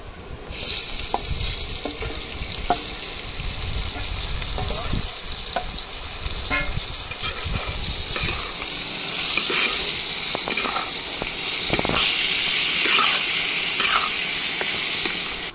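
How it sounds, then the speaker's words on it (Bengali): Onions frying in a pan with a little salt and turmeric, a steady bright sizzle running throughout, broken by occasional stirring scrapes and clinks, close and fairly loud with no talking. "পেঁয়াজগুলো ভাজা হচ্ছে"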